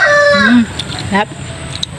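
A rooster crows loudly and close by near a backyard chicken house, with two strained, harmonic calls, the first long and the second short, over faint outdoor background.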